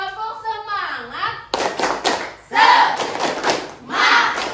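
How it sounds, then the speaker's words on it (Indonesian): A primary school class claps out a rhythmic patterned cheer in bursts, sharp and close, alternating with a teacher and children chanting in between. "Tepuk semangat."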